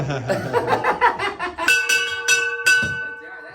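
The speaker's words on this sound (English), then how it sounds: "Well, go ring our bell then." A bell rung once, ringing out bright and sustained near the end, after a stretch of chuckling and laughter from people nearby, in a chiropractic setting.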